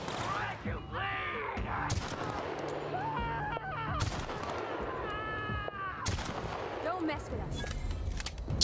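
Sniper rifle shots in The Outer Worlds, several sharp loud cracks spread across the stretch, layered with game sound effects and creature cries, and someone talking over parts of it.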